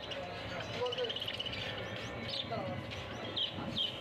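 Java sparrows and other caged birds at the Garia bird market, with scattered high chirps and tweets rising over a murmur of background voices and market bustle.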